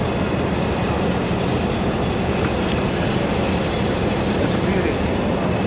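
The Atlantic Coast Line 501 streamliner locomotive, in purple and silver paint at Spencer, rolls on the rails with a loud, steady rumble and rattle that holds constant throughout.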